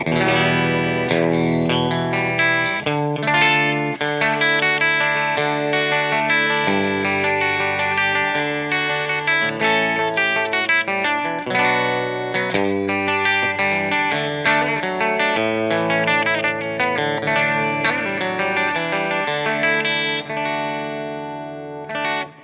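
Fender Jaguar electric guitar playing a continuous melodic passage with chords, bright and effected with a slight chorus-like shimmer, steady and fairly loud with no talking.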